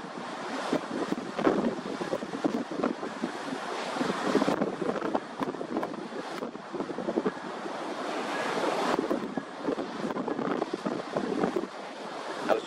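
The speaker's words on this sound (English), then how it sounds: "Just to give you an idea of scale as to the height of these waves." Ocean swell of three to five feet, arriving at nine-second intervals, shoals and breaks on the shore: continuous roaring surf with surging crashes, heavy wind buffeting the microphone, and no voices.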